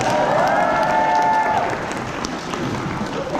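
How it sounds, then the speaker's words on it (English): Loud, dense applause and cheering from a large conference audience in London, filling the room continuously, with a brief tonal whistle or ringing near the start. "Give me a cheer for Sheikh Suleiman Mullah."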